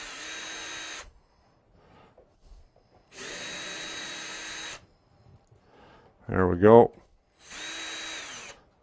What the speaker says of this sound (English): why in the heck is he using such a big drill driver?